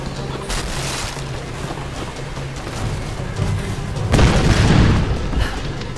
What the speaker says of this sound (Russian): Кто по мне стреляет, я не вижу